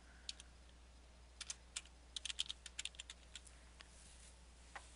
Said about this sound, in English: I'm going to choose desktop and type in the name.